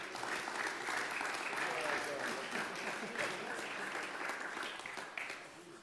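A crowd applauds the 2012 USA Men's National Basketball Team at its introduction, a broad, distant-sounding wash of clapping and cheering, fairly quiet overall and tapering off toward the end.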